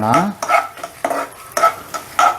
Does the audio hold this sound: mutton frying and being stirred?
yes